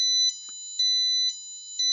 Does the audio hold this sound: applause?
no